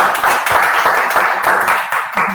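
An audience applauding after a presentation, a dense, steady wash of many hands clapping up close, sustained for a couple of seconds before tapering slightly.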